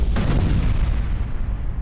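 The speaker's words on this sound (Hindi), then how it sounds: "ये एक साथ बड़ा धमाका, ड्रोन हमले में T-80 टैंक पूरा तबाह हो गया" A T-80 tank blown apart by a drone strike, a loud heavy blast with deep rumbling low end that rolls on continuously.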